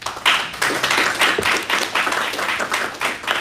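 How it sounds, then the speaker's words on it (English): Audience applause at a township board meeting: a room of people clapping steadily and fairly close, with individual claps audible in a dense, even patter. "So give them a round of applause for that."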